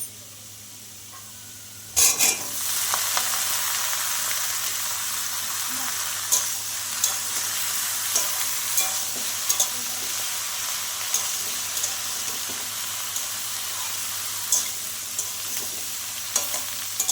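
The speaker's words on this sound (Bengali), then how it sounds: "আলুটা একটু ভালো করে ভেজে নেব" Potatoes and ridge gourd fry in a pan for jhinge posto, a loud sizzle that bursts in suddenly and settles into a steady hiss, broken by faint clicks of stirring.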